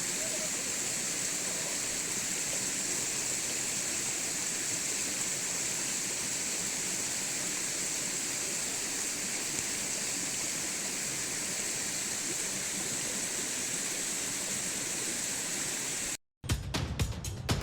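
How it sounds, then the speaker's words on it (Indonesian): The Tancak Tulis waterfall in Tanggul, Jember, roars nearby in a steady, loud wash of falling water that goes on for a long stretch, then cuts off abruptly near the end. "Gemuruh air terjun makin terdengar keras."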